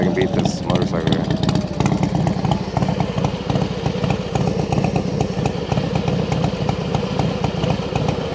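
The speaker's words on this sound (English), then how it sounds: "See if I can beat this motorcycle here." A motorcycle engine drones steadily and loudly nearby with a rattling, buzzing texture, heard from alongside an electric dirt bike out on a range-test ride.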